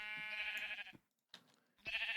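Sheep in the TerraFirmaCraft video game bleat in two loud, close, wavering calls separated by a near-silent gap, with a short quieter sound in between.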